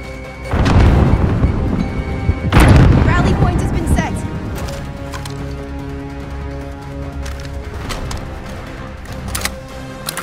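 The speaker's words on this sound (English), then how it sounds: "Throwing grenade." A grenade exploding in the Warzone video game: two heavy, booming blasts a couple of seconds apart, each followed by rumbling debris, then quieter game noise with voices talking.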